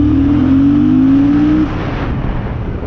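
A Yamaha MT-07 motorcycle accelerating hard in second gear, with a loud, close engine whose pitch climbs steadily for about a second and a half, then drops away into a lower, rougher drone.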